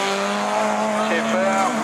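Rallycross car in a Division 4 race at Lessay spinning out, tires skidding and squealing in a sustained, loud, rising screech over engine noise, with a commentator talking over it.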